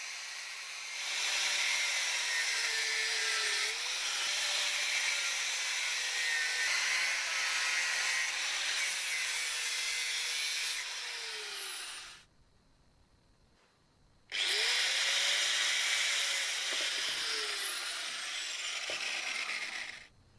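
An angle grinder cuts into a BMW E30 700 kg emergency jack, a loud, steady high-pitched whine with shifting pitch as the disc bites the metal, pausing for a couple of seconds before resuming just as harshly.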